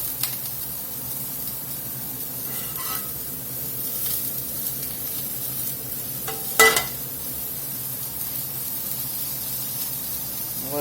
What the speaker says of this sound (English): Get a skillet heated up, get these blackened. I'll get a little vegetable oil in here.